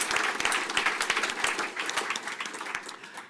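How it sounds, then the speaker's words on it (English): Brisk clapping from a book-festival audience honouring sponsors, a dense round of applause with individual claps standing out near the listener. "And again, another big round of applause,"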